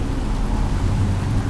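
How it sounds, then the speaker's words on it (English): Rain falling outdoors on a Seattle street, a steady, dense hiss with a low rumble underneath, continuous and fairly loud throughout with no voices. "it's starting to rain"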